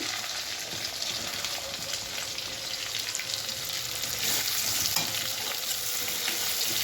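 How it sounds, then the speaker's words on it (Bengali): Chopped onion fries in hot oil over a spice tempering of dried chilli, bay leaf and cumin, giving a continuous near sizzle that swells slightly toward the end, with no voices. "ফোড়নটা ভাজা হয়ে এলে এটা আমি কুচনো পেঁয়াজ দিয়ে দিচ্ছি"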